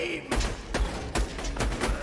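Repeated gunfire from a sniper rifle in the video game Borderlands 2, about five loud shots in quick succession with low booming thumps, over steady background game noise.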